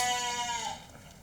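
Sheep in the farm area of the Quito zoo at Guayllabamba gives a single short, nasal bleat from a short distance, fading quickly into quiet background.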